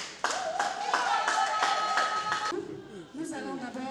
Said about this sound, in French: si on pouvait acclamer pour le président Caleb